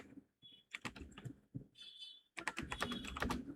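Someone types a prompt on a computer keyboard. Quick irregular key clicks come in bursts with a short pause partway through, close and clear, with no talking.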